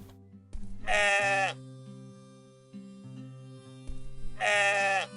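Two loud, quavering sheep bleats from the video game Moirai, one near the start and one at the end, over a soft droning game soundtrack.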